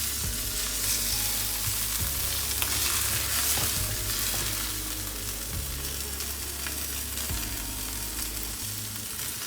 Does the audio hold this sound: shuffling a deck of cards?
no